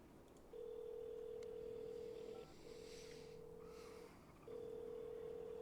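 A payphone in a GTA roleplay game sounds a steady tone, broken into three long segments, with faint keypad beeps and a wash of background noise.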